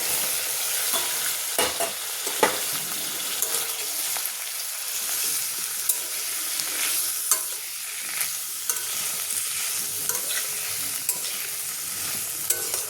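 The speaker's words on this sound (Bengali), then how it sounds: "ঢেলে দিয়ে আমি ভালোভাবে এবার ভেজে নেব" Turmeric-rubbed fish frying in a pan with a steady, even sizzle and occasional soft stirring clicks, continuous and moderately close, with no talking.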